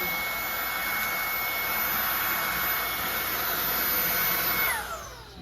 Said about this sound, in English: Let's try sucking up some fur back here.